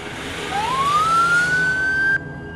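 A vehicle siren switches on in a tense chase scene, its single tone sweeping upward and holding steady for about two seconds over engine and road noise before stopping abruptly.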